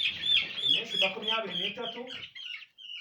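A flock of 23-day-old broiler chickens, including healthy young cockerels of around 400 grams, fills a poultry house with dense, continuous high peeping and soft clucking, heard close up before trailing off near the end.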